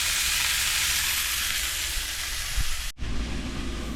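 Food searing in a hot cast iron pan during RV cooking: a loud steady hiss and crackle that runs close and continuous, then cuts off abruptly near the end, leaving a quieter low rumble.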